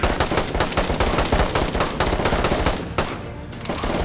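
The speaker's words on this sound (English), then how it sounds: "Stop shooting!" Gunfire in the DayZ video game during a Halloween event in Chernarus: rapid automatic bursts, loud and close, rattling continuously with a brief lull before resuming.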